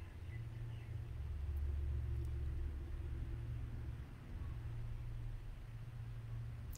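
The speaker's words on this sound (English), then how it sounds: "I was just waiting for that truck to pass by." A truck passes on a nearby road, producing a steady, low engine rumble and tire roar that holds for several seconds with no speech.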